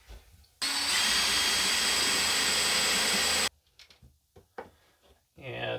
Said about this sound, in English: I am going to screw this on, and I don't know if my 2-inch screws are going to go all the way